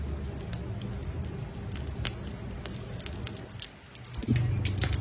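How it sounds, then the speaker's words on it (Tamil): Mustard seeds spluttering in about four ladles of hot oil with asafoetida, a faint scattered crackle and patter of small pops close by, sizzling steadily with no talk. "கடுகு பொரிஞ்சிடுச்சு"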